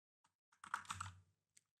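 Typing on a computer keyboard that keeps breaking, heard as a few sparse isolated key taps around a short rapid cluster of clacks, close and fairly quiet with no talk.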